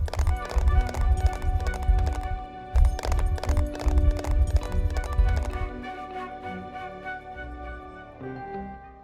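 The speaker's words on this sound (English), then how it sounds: "Listen closely, and you can almost hear the distant thunder of hoofs." Horse hooves clatter in a rapid galloping rhythm, loud and busy for several seconds and then thinning out to scattered beats, set at an ancient Roman horse-racing site at Caesarea Maritima.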